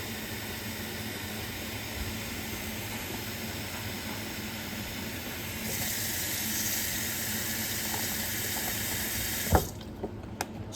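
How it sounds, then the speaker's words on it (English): Cold tap water runs steadily into a plastic bag being half-filled for freezing gutted rainbow trout, a constant close rushing hiss that grows brighter partway through and ends with a light knock. "we're going to go ahead and fill it up with cold water"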